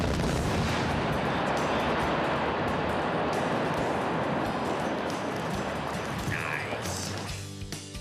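A blast set off with digital electronic detonators, where delay times are set before detonation, fills the scene with a loud, sustained rumble of overlapping booms that stays heavy for several seconds and then begins to fade near the end.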